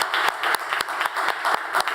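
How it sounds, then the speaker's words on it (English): Conference audience at a ministerial eGovernment session applauding, a dense, steady wash of many hands clapping with a few sharper individual claps standing out throughout. "So a big round of applause for Dominic."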